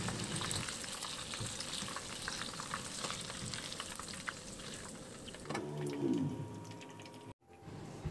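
Garlic sautéing in oil in a pan for pancit canton, a steady close frying sizzle that turns to a stirring, bubbling sound near the end, no talk.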